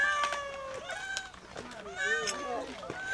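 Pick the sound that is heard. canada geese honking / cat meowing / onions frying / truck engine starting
cat meowing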